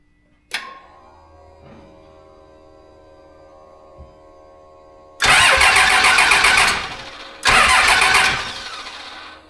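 A Cummins diesel engine with a VE injection pump cranks, coughs, and then fires up in two loud, rough bursts of running close by, separated by a brief pause.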